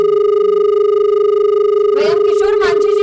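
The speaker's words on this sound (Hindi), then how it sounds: "हम किशोर मांझी जी को कॉल लगा रहे हैं, मुखिया हैं अकोना पंचायत से।" A steady phone-call dial tone hums loud and close throughout, with a brief burst of voice-like noise over it near the end.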